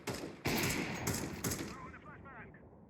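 Gunfire in Counter-Strike 2 comes as loud, close rapid bursts, three sharp volleys in quick succession, then trails off into a fading echo.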